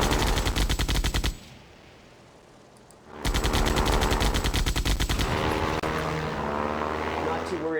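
Rapid machine gun bursts from World War I fighter planes in the Ace Patrol video game rattle loud and close, a long burst, a short pause, then another sustained burst over propeller engine drone.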